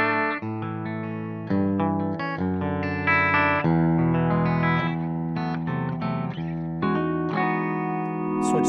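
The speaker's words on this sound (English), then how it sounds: "here's the bridge pickup, starting off with humbucker and clean sound." Paul Reed Smith Custom 408 maple top electric guitar on its bridge humbucker with a clean tone, played through a 2x12 cabinet, picking a series of ringing chords and single notes, close and clear with some reverb.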